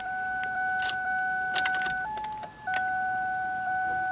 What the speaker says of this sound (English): when I turn the ignition, I'm not getting anything